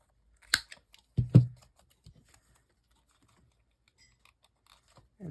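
Scissors cut through cardboard while making a flippy floppy topper, giving a few sharp, close snips and crunches with quiet pauses between them, then another cut at the end.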